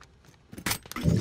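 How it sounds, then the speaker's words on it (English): A short burst of mechanical clicks and metallic rattles from a weapon being reloaded in Call of Duty: Modern Warfare, building to a louder clack near the end over quiet game ambience. "Reloading."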